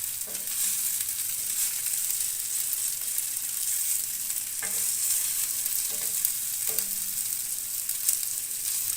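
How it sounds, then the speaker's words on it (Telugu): Idli pieces frying in a pan give a steady sizzle throughout, with a few soft scraping clicks as the pieces are flipped over. "ఇలా వీడియోలో చూపించిన విధంగా అటు ఇటు ఫ్లిప్ చేసుకుంటూ ఫ్రై చేసుకోవాలి."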